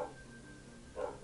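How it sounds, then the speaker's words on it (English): A dog barks at the start and again near the end, two short muffled barks over a faint steady background hum. "My dog is a barking."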